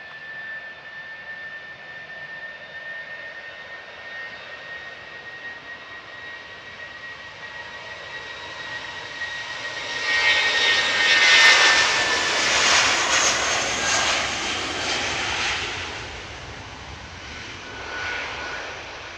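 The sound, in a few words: BA airliner departing Manchester for Heathrow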